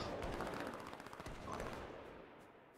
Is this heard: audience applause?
no